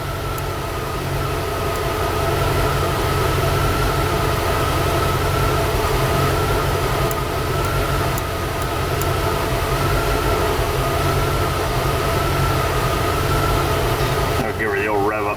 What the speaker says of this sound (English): It sounds like it might have a single cylinder misfire sitting there.